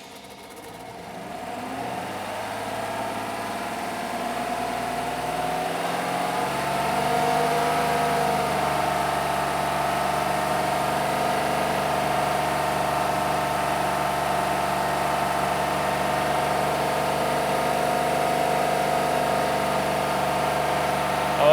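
Truck engine held at a steady high rev, around 3,000 RPM, a loud sustained mid-pitched drone that climbs in the first seconds and then holds even, with a faint whine riding on top.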